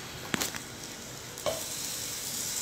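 Food toasts in chopped-parsley butter, giving a steady close sizzle with a couple of brief stirring knocks, no talk.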